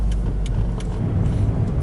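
A car being driven, heard from inside as a steady low engine and road rumble that holds even for about two seconds, with a few faint higher ticks above it and no talking.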